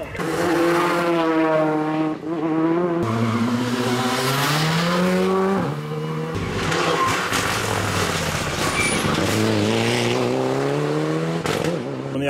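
Rally car leaving on a closed-road special stage of the Rallye du Sud Sauvage, engine revving hard through rising gear sweeps, loud and close, then fading as it pulls away, with brief talk.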